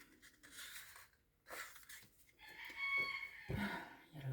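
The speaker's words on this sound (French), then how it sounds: "Il y a le coq qui s'emballe." A rooster crows and clucks in short bursts nearby, with a louder, drawn-out crow toward the end, against a quiet indoor background.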